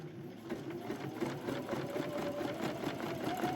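A sewing machine stitches fabric scraps in a fast, steady mechanical chatter, close and continuous throughout, with no talking.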